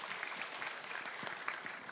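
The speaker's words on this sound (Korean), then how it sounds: "박수 부탁드립니다" Audience applause at a science and technology panel forum, a soft, steady patter of many hands clapping, fairly faint and continuous.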